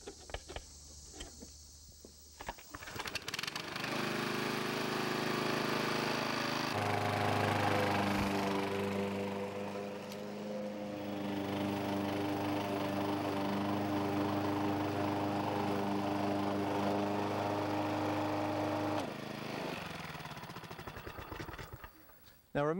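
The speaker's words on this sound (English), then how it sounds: "So once we finish mowing it here, you'll see the difference in where it's been mowed." Lawn mower cutting fescue grass before winter, a steady loud engine drone with a harmonic hum running for most of the stretch, starting up after a quieter opening and cutting off near the end.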